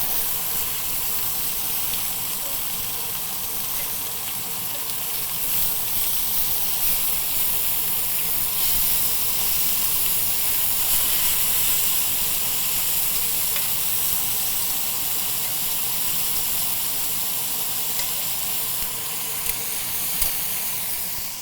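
Pork sizzles in a pan of steak grease and butter, a steady dense frying hiss that holds close and even, alone with no voices, for the whole stretch.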